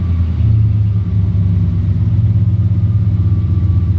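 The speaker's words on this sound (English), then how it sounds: "Seems to be idling quite nicely." A little Nissan Micra's engine idles steadily, a low, even rumble with a smooth continuous hum, close by and alone with no voices.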